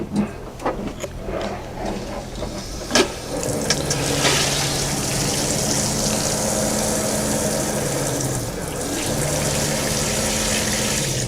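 Pink antifreeze runs from a travel trailer's shower faucet in a steady hissing, splashing stream. A few sharp clicks and knocks come first, then the flow holds continuous and fairly loud to the end.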